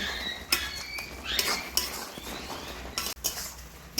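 Spoon clinks and scrapes against a pot while garam masala is mixed into a village-style vegetarian banana flower curry, with intermittent metallic taps and a soft stirring patter, close and fairly quiet, no talk.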